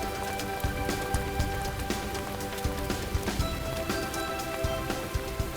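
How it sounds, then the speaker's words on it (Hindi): Rain falling steadily, a close patter of drops striking a surface with irregular louder splats, a dense continuous wash at moderate level with a faint underlying tonal hum. "बारिश कहाँ से आ गई चलो यार?"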